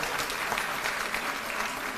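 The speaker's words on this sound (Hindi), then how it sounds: "एक बार जोरदार ताली बजा दीजिए सब लोग उनके लिए" Audience clapping at an International Women's Day event, a brief, steady burst of applause from many hands, moderately loud and continuous throughout.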